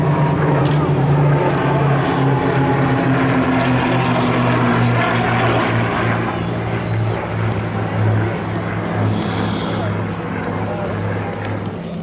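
Hawker Hurricane warbird propeller plane flying past at an air show, a steady droning engine hum with low tonal bands that swells and holds throughout, heard under ongoing commentary from people talking nearby.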